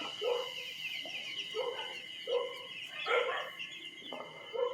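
Baby chicks peeping in short, bright bursts, several overlapping calls repeating about once a second at moderate distance over a soft background hiss, with no clear talk.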